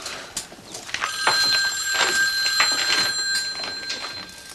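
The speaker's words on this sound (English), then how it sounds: "phone is ringing, phone is ringing." A telephone bell rings in bright, rapid trills, two bursts with a short pause between, fairly loud and close over a faint background.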